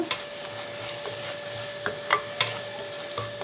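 A utensil scrapes and taps in a pan of vermicelli biryani with a few sharp clinks, over a faint steady sizzle of frying.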